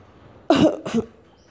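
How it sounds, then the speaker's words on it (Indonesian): Two sharp, close coughs in quick succession, the first harsher and longer, followed by quiet. "Batuk sampai wajahnya merah."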